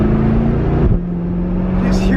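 C8 Corvette with a dual clutch transmission moves in regular drive, its engine drone holding steady before a quick gear change drops the pitch. A voice talks over the engine and road noise.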